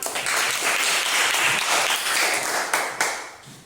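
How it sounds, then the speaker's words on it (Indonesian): A crowd claps steadily for a few seconds, dense and even, with the applause swelling slightly near the end before fading. "Tepuk tangan."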